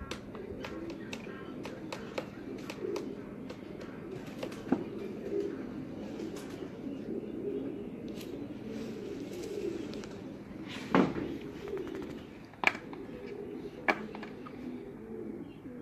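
Pigeons coo softly and repeatedly close by, low rounded calls running throughout, with a few sharp taps and faint background noise and no one speaking.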